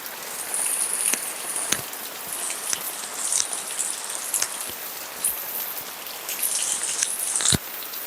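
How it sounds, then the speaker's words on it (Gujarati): Heavy rain pours down in a dense, continuous hiss of drops striking surfaces, broken by a few sharper close splashes and thuds. "કઈ દેખાતું ને તેવો વરસાદ આવે"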